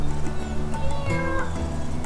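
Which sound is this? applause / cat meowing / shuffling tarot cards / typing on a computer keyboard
cat meowing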